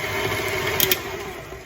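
An electric stand mixer works shortbread dough of all-purpose flour, its motor giving a steady whir, with a couple of quick clicks or knocks partway through.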